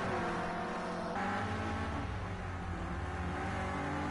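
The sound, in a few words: Renault Clio Cup race cars driving past on track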